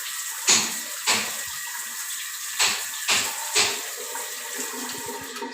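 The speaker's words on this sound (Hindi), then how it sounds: "शावर रे पानी आसला" Water running from a newly fitted bathroom shower, a steady hiss of spray with several splashing surges, loud and close, with no talking.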